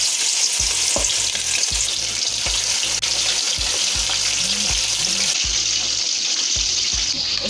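Chicken sizzles and crackles loudly in hot oil with garlic for brown stew chicken, with a constant frying hiss and occasional clinks and scrapes of stirring in a pan.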